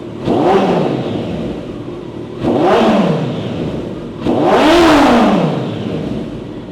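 A Kawasaki Ninja ZX motorcycle engine revs three times in succession, each blip rising sharply in pitch, then falling away, with the last rev the loudest and longest.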